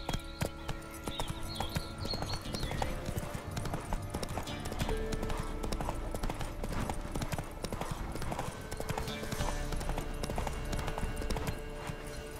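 Roach, the horse in The Witcher 3: Wild Hunt, gallops with a quick, steady clip-clop of hooves that runs throughout, close and clear, with a faint voice now and then.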